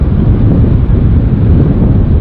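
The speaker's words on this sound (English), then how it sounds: "The wind has picked up as we're getting lower" Strong wind on a mountain trail in Alaska roars as a loud, steady, low rumble buffeting the microphone, with no voices.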